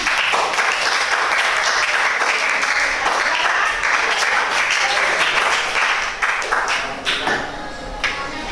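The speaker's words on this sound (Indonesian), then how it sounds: "Tepuk tangan." An audience at a teacher training session claps loudly and continuously, the dense applause mixing with a few sharp taps and tapering slightly near the end.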